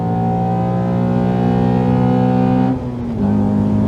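Honda Accord Euro R with a K24 engine and short gears accelerating, a loud steady engine drone with strong harmonic tones that rise briefly, dip as if for a gear change, then resume.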